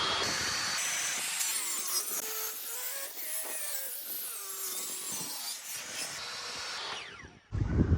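A length of timber being cut down to about 1.5 inches thick for a campervan bench seat, with sustained rasping, grinding cut strokes running close and loud throughout, ending in a brief clatter.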